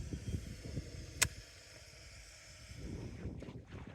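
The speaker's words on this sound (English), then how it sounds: "the wind is building" Wind blows over a West Wight Potter sailboat at anchor in a lunch anchorage, a low rumbling buffet against the microphone with water noise, a single sharp click partway through, and the gusts picking up again toward the end.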